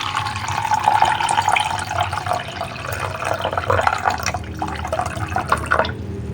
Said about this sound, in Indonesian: Kita isi dengan air seperti ini.